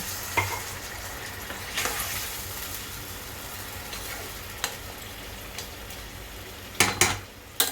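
Squash curry frying in a pan with water added, giving a soft continuous sizzle and bubbling, broken by a few sharp clinks and scrapes of stirring utensils against the pan.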